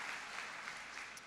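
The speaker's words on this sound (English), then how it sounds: "a round of applause" An audience gives a brief burst of applause, a dense, even wash of clapping heard faintly and at a distance for just over a second.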